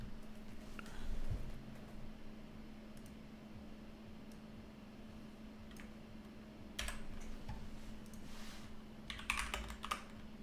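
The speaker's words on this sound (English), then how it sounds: "I'm just typing in the coordinates" Someone types coordinates on a computer keyboard during a Minecraft build event, giving quiet, close clicking keystrokes in irregular bursts, with a few louder clusters, over a steady low hum.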